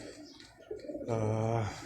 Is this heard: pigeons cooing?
yes